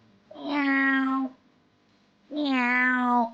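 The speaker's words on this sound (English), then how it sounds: "It's a cat." Two clear, drawn-out cat meows play from a children's sound book, each lasting about a second with a short pause between, close and alone.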